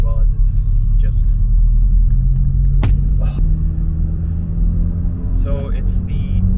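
Steady low rumble and drone inside the cabin of a Mk7 VW GTI with a muffler delete and stock turbo-back parts, sounding continuously throughout, with brief faint voice sounds.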